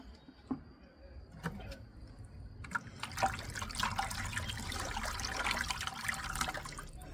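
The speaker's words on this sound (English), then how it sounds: "we're going to take this and drain it into this other bucket" Fish hydrolysate fertilizer liquid drains from one bucket into another, a steady trickling pour that swells and grows denser after the first few seconds, close and continuous.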